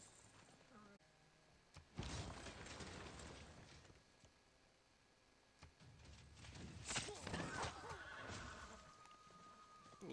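Horses neigh and whinny during a battle against Roman legionnaires in the strategy game Civilization, with loud bursts of whinnying and hoof clatter rising over a busy game soundscape.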